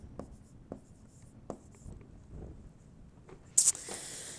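A pen scratches out short, irregular strokes while drawing the spongy bone structure of an anatomy diagram, with a louder, sharper scrape near the end.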